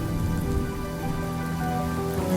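Steady rain falling in the Honkai Star Rail video game, a continuous dense patter of drops on a surface, even and moderately loud throughout with no talk.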